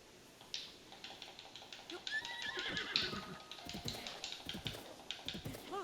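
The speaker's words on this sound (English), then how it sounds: "Let's get this horse though." A horse whinnies loudly in a drawn-out call in The Legend of Zelda: Breath of the Wild, followed by clip-clopping hooves and scattered clicks, with no talking.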